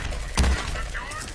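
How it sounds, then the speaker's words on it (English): A solar cannon fires once in the PS5 video game Surviving The Wastes: one short, crackling blast with a shattering edge, heard over ongoing game noise. "I forget how this solar cannon sounds."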